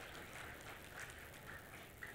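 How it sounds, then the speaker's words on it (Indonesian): A large audience at a formal Nahdlatul Ulama congress ceremony applauds, producing a faint, even wash of distant clapping with no voices. "luar biasa tepuk tangan yang meriah untuk Nahdlatul Ulama"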